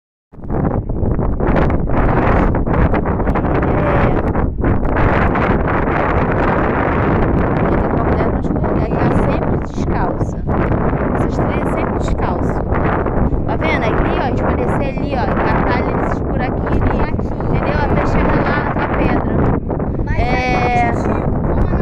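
Strong wind on a hilltop hiking trail buffets the microphone in a loud, continuous rumble that covers the whole stretch, with a faint bleat-like cry near the end.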